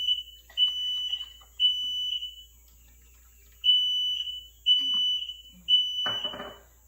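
A fire alarm going off in a kitchen during cooking, sounding a series of shrill, piercing beeps in repeated bursts, with a short clatter near the end.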